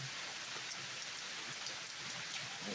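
Steady outdoor rain pattering on surfaces as a dense, even hiss with scattered droplet ticks and no voices.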